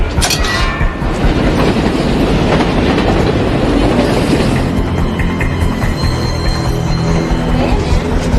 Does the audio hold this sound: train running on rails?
yes